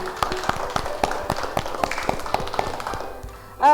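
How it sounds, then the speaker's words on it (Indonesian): Children in a classroom clap their hands in a loose, uneven burst of individual claps, fairly close and distinct, ending in a brief sharp squeal. "Tepuk tangan untuk kalian."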